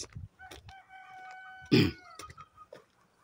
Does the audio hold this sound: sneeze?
no